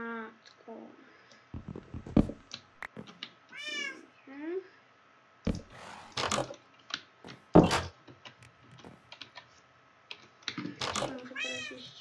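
A cat meows repeatedly in short, rising calls, spaced irregularly with pauses, fairly close, mixed with clicks and occasional speech.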